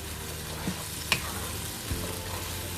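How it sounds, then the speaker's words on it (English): Masala tikka paste and mussel liquid cook in a pan with a soft, steady sizzle, broken by a few brief utensil knocks and scrapes. "that's just allowing the masala spices to cook out"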